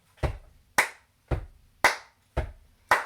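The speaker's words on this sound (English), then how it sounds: "It's going to be stamp, clap, stamp, clap, stamp, clap, stamp, clap." A community choir keeps a steady stamp-clap rhythm, six crisp, evenly spaced sharp hits with heavier thuds at some beats, close and alone without voices.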